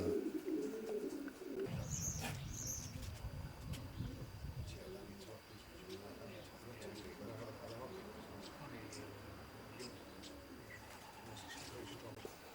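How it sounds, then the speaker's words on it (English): Pigeons coo softly in a racing pigeon loft, low repeated throaty calls with a few faint chirps, while people talk quietly nearby. "So you got your own family of pigeons in, Brian."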